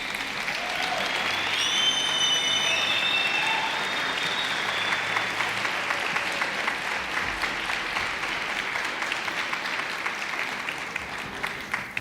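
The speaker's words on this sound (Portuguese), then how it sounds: "dá uma salva de palmas a Jesus" A church congregation claps in a long, loud, sustained round of applause, with a few whistles and whoops rising over the dense clapping early on before it settles into steady, even clapping.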